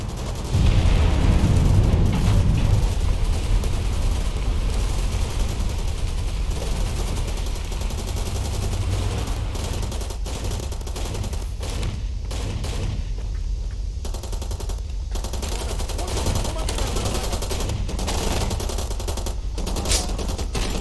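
Sustained volleys of gunfire and explosions in the Far Cry 2 video game, a dense, loud barrage running throughout with no speech.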